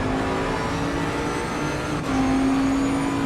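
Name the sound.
race cars at Suzuka in a racing video game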